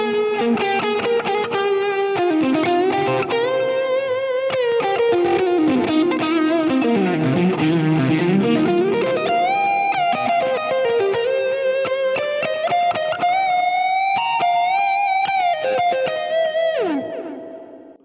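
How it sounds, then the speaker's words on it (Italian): Electric guitar played through an HX Stomp with an always-on compressor, two stacked overdrives and a touch of delay gives a creamy, liquid, sustained lead line. It sounds loud and continuous for about eighteen seconds, then fades at the end, with no talking. "un suono molto cremoso, molto liquido e con tanto sustain dettato dall'utilizzo del compressore sempre acceso e di due overdrive insieme"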